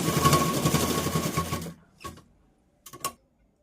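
A sewing machine stitches a plain blouse in a fast rattling run that stops abruptly, followed by a couple of short isolated bursts of stitching close by.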